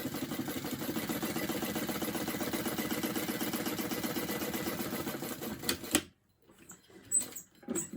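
A sewing machine runs steadily, top stitching a vinyl bag pocket with a fast, continuous mechanical chatter, then stops abruptly and quiet handling noises follow.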